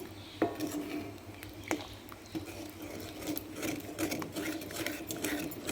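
Banana leaf halwa is stirred in a pan, giving quiet intermittent scrapes and light clinks of a spoon against metal over a low background hum.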